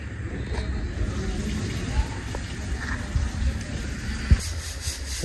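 Water runs from a tap into a bucket outdoors at a house, a steady close rushing stream with a few knocks, while people talk over it.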